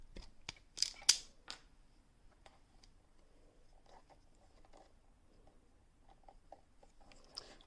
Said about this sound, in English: So I'm going to cut these wires here.